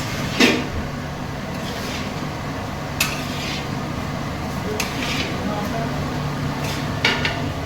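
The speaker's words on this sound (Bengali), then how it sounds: "আলুটা দিয়ে এর সাথে ভালো করে মিশিয়ে নিচ্ছি" A spoon scrapes and knocks against a pan while mashed potato is stirred into a fried vegetable mixture for veg patties, with a few sharp clinks over a low steady background.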